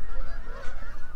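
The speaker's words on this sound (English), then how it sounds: "Look at all these geese, guys." Geese honk loudly and close by outdoors near a fishing spot, a brief cluster of overlapping calls with no talking.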